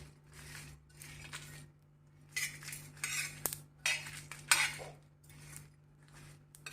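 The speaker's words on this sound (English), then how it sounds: "Mix it well." Coriander, fennel seeds and cumin roast in a pan for Goan beef xacutti while a metal spoon stirs them, producing intermittent bursts of scraping and clinking separated by quiet pauses under a low steady hum.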